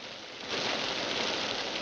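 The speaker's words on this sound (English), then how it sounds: "I said the rain on the roof is lovely" A dense, steady patter of rain drums on a roof nearby, a continuous soft hiss that swells slightly after a moment.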